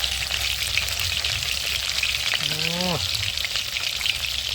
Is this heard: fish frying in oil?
yes